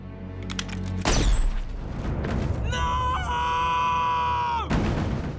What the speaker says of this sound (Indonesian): Selesai menjelaskan, Samidi langsung mengeluarkan pistol dan menghabisi Harry saat itu juga.